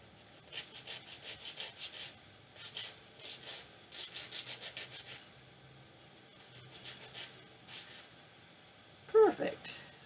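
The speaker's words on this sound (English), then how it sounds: "Just get some sandpaper here, and we'll just sand that down" Sandpaper rubbed by hand over a small wooden letter piece, a series of short rhythmic scratchy strokes in bursts, fairly close, with a soft thump near the end.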